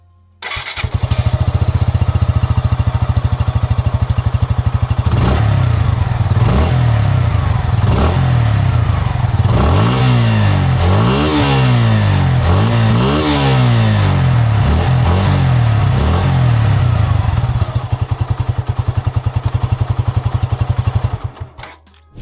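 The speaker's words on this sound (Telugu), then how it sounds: "సో ఈ బైక్లో ఎగ్జాస్ట్ నోట్ ఎలా ఉందో ఒకసారి చూద్దాం మనం." A grey-and-red Suzuki Gixxer SF 150 motorcycle starts and idles close by, its single-cylinder exhaust thumping steadily, with a series of sharp throttle blips rising and falling in the middle before it settles and cuts off.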